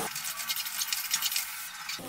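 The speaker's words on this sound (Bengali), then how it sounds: "এবার সব কিছুকে ভালো করে আমি কষিয়ে নেব" Turmeric, salt and ground spices being stirred and sautéed in a pan for a Bengali drumstick (sojne data) dish, a steady close sizzle with scraping stirs and no talk.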